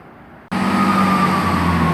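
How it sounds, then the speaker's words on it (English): A train pulling out of Bristol Temple Meads station: a sudden loud onset of engine and rail roar that holds steady and close, with a sustained tonal whine running underneath. "departing out now is a delayed 17:56 to Cardiff Central"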